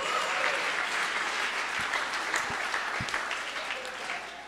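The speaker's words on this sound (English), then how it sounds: "give yourself a round of applause" A crowd at a social media breakfast event applauds, with loud, dense clapping from many hands that holds steady for several seconds, a few sharper claps standing out, before easing off slightly at the end.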